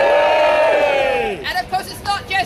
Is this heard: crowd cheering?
yes